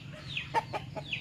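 A rooster kept as a backyard chicken gives soft, close clucking calls, a few short bursts spread over about a second.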